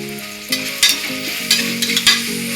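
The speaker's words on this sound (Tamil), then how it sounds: "பச்சை வாசனை போகிற வரைக்கும் நல்லா வதக்கிடணும்" Coriander and mint sizzle as they are sautéed in a pan for mushroom biryani, with steady frying hiss, several sharp scrapes and stirs of a utensil, and a faint tonal hum underneath.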